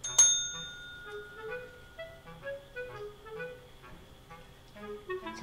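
A Munchkin cat rings a small service bell for a food refill, giving one bright, clear ding at the start, then several softer dings at irregular intervals, with the ringing tones lingering between strikes.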